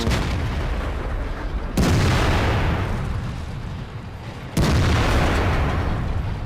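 Tank cannons fire in World of Tanks, two heavy booming shots a few seconds apart, each loud and close with a long rumbling decay, alone without talk.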